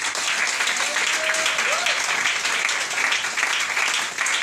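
Church congregation applauding to acclaim the Lord, a steady dense wash of clapping that fills the whole stretch at close range, with a few faint voices and whistles mixed in.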